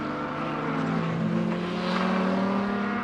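A BMW stock car engine drones steadily on an oval race track, a sustained mid-distance roar with a slight rise in pitch and no break.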